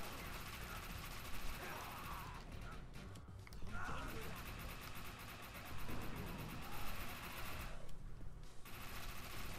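Rapid weapon fire rattles in bursts through a busy Defiance 2050 firefight, dense and continuous with short gaps, while a voice talks over the shooting.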